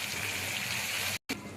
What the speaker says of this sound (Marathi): आता त्याच्यामध्ये जाणार आहे पाणी गरम केलेलं।